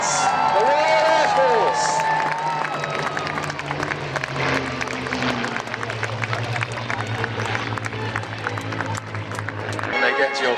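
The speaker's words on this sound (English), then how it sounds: "Ladies and gentlemen, cheer the Spitfires!" Outdoor crowd at a historical festival at Kirby Hall cheers and claps for passing Spitfires, a distant, diffuse swell of applause and whoops with voices over it and a steady low engine drone.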